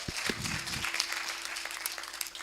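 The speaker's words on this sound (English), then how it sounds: "let's give Isoma Foundation another round of applause." Audience applause for the Isoma Foundation at an Africa in Focus event, a steady wash of many hands clapping at moderate volume, continuous through the short stretch with a few heavier thumps near the start.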